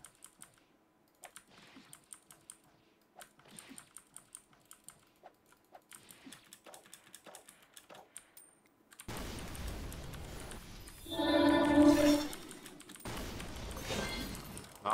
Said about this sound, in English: Sorry for my keyboard.